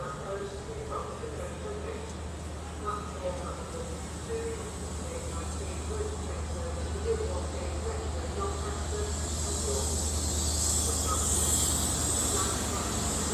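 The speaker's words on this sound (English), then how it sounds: "The train that's just pulling in" A Class 158 diesel train pulls into a platform at Grantham station with a steady low rumble and broad hiss that slowly swell louder as it approaches and draws alongside.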